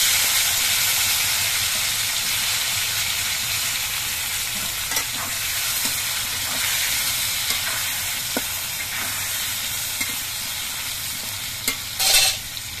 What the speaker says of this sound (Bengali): এবার কড়াইয়ের তেলের মধ্যে দিয়ে আমি বেগুনগুলো ভেজে নিচ্ছি।